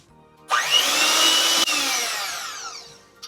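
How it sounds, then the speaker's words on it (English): An electric hand mixer creams butter and sugar for a giant sugar cookie in a single close burst of about three seconds, a high whirring whine that starts abruptly and slowly winds down. "I'm using a hand mixer because this is not really a big recipe, so you could do it just fine by hand mixer"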